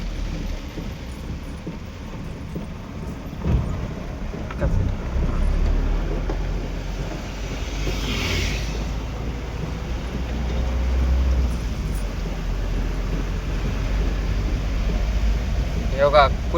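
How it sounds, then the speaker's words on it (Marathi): Heavy rain pounds a car while the windshield wipers run at their fastest setting. A dense, steady wash of noise lasts throughout, with a voice talking over it. "लई जोरात पाऊस चालू आहे."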